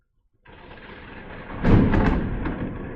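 Thunder from a lightning storm rolls in as a low, broad rumble after a brief quiet, then swells into a louder, crackling peak that slowly fades but keeps rumbling.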